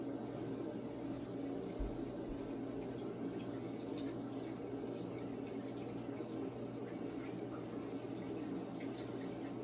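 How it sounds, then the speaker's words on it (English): A clay mold rinsed under a running tap, a faint, steady stream of water splashing continuously with a couple of soft low knocks. "I'm gonna go rinse this one off too."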